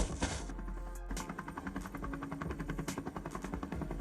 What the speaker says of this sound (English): a helicopter, and it's coming from over there?